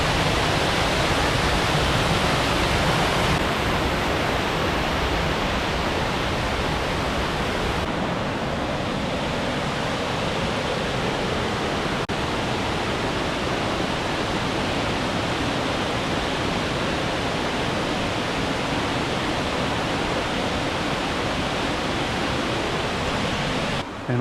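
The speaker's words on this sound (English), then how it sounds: "And the other waterfall is just there." Cathedral Falls pours in a steady, loud broadband roar close by, a continuous rushing wash of water that holds an even level throughout with no voices.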